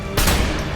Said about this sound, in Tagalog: pinapaulanan sila ng bala ni Dana at isa pang gwardya